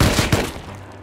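Gunfire in the survival game Rust, two or three close, loud shots in quick succession that fade into a short reverberant tail.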